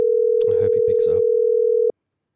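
A phone call waits for pickup as a steady single-pitch telephone tone holds for nearly two seconds and then cuts off abruptly, with a person talking over it.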